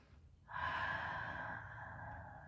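A deep, full breath during a gentle beginner yoga flow, drawn in then released as a long, soft, airy exhale, close and quiet, with no talking.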